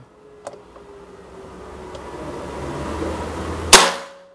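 A single sharp shot from a Predator Ataman Black Army OD 38 PCP air rifle rings out near the end, a loud crisp crack after a quiet stretch with a couple of faint clicks.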